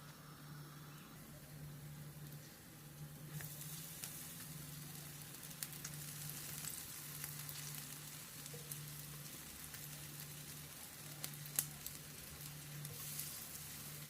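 Zucchini pieces fry in olive oil in a pan with a soft, steady sizzle and scattered crackles, fairly quiet, with a low background hum running underneath.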